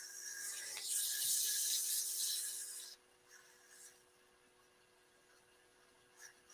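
80 grit sandpaper rubs across a piece of wood in a steady harsh hiss for about three seconds, fairly close, then stops, leaving only faint light scrapes and quiet room noise.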